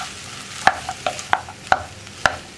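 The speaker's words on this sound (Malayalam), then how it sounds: "നമുക്കിതെല്ലാം ചേർത്ത് മിക്സ് ചെയ്യാം." Vegetable bonda filling being mixed in a bowl, a series of sharp, distinct stirring knocks and scrapes spaced about half a second apart, close and clear with no talking.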